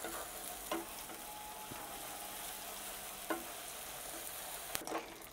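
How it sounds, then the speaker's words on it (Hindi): Onions frying in mustard oil for fish korma, a quiet steady sizzle with a few sharp clicks and stirring knocks scattered across the stretch. "इसकी अनियन हमें इस तरीके से फ्राई करनी है जैसे कि हमारे कोरमे की होती है"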